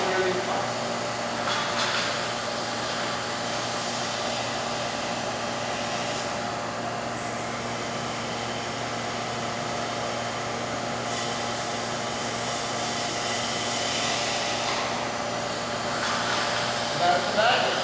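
A TAWI high-frequency vacuum lift system running as a steady, even whirring hum of suction and motor noise, moderately close, with faint shifts and no distinct breaks.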